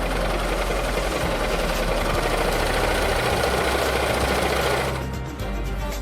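A sewing machine stitches a shirt placket with a continuous loud, rattling hum for about five seconds before slowing and stopping, with a faint mechanical tail afterward and no voices.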